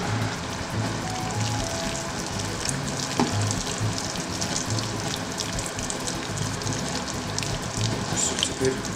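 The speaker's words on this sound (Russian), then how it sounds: "Я сейчас подолью чуть-чуть кипятка, чтобы покрыть тыкву." Boiling water trickles and splashes into a pot of pumpkin cooking for plov, a steady soft pouring hiss with scattered drips that runs evenly throughout, fairly quiet and without voices.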